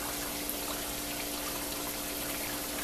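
Frying oil bubbling rapidly around pieces of gluten-free chicken in a pan, a faint, steady fizzing sizzle with a soft watery hiss and no talking.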